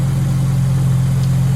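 A 1957 Jaguar XK150 fixed-head coupé engine on its original carburetors and air filter idles smoothly, a strong, steady low hum close by without talk.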